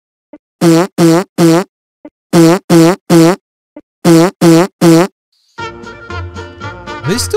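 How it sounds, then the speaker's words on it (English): Cartoon fart sound effects blast loud and close in a Piggy animation, three sets of three rapid buzzy toots each separated by short silences, followed by busier background noise. "I thought the power of the fart was going to win"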